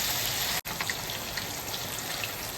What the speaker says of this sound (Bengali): আমাদের এখানে এখন বৃষ্টি হচ্ছে